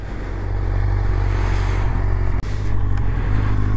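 A 1997 Suzuki GSX-R motorcycle with an aftermarket Carbon Force exhaust idles close by, a loud steady low rumble with a brief dip partway through before it settles again.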